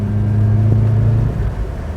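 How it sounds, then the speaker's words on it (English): A Vauxhall Astra F engine rumbles with a deep, gruff low-pitched tone, steady and close, rising slightly in a brief rev before settling. "But don't Vauxhall engines sound good? They've got a proper gruff tone to them."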